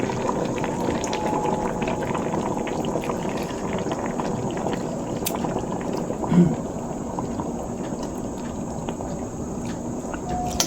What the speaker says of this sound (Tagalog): Pakuluin lang po, tas ay luto na po yan.